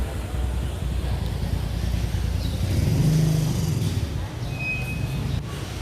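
At the San Juan, La Union public market, tricycle taxis run with a steady low motorcycle-engine rumble that rises briefly in the middle, mixed with wind buffeting and a faint thin whine near the end.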